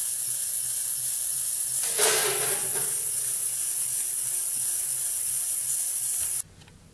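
Ultrasonic cleaner running with engine cylinders inside, a steady bright hiss that swells briefly near the start, holds evenly, then cuts off abruptly near the end, with no voices.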